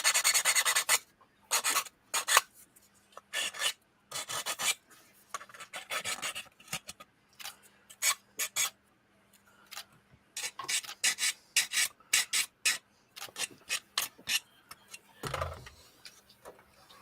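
Short, rhythmic rasping strokes of sanding on small plastic locating pins, coming in quick bursts with brief pauses between, close and fairly quiet.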